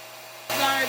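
A RevAir reverse-air hair dryer switches on partway through, a steady suction whoosh as long, thick hair is drawn into the tube, loud and close after a quieter start.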